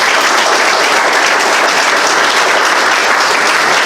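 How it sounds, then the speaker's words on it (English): A town meeting audience bursts into a dense, loud round of applause for a volunteer, many hands clapping steadily and evenly throughout with no pause. "I want to give a big round of applause for Jordy"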